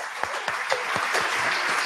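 Audience applause at a live Pitch For Impact evening in November 2023: steady, dense clapping from a crowd, fairly close and continuous for the whole stretch, with individual sharper claps standing out, no voices.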